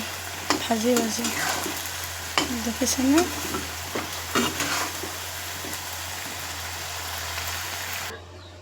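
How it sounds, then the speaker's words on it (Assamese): Food fries in a pan while being stirred, giving a continuous close sizzle with repeated scraping and clinking strokes. A voice speaks briefly over it before the sound cuts off near the end. "এইফালে আছোঁ ভাজি"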